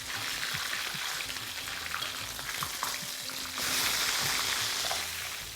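A lamb leg fries in hot oil for a roast, a steady close sizzle and crackle running throughout, swelling louder and brighter toward the end as oil is spooned over the meat.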